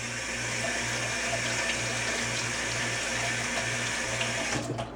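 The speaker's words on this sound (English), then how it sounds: "Now we're going to run this under cold water." Cold tap water runs steadily into a sink as a mouthguard is rinsed under it, a close, even hiss with a faint rhythmic pump hum beneath.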